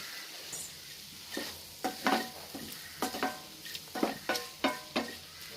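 Ivy gourd sautéed in a pan for Kerala-style thoran, with a soft sizzle under repeated sharp scraping and stirring strokes of a spatula against the pan, close and unhurried, no talking.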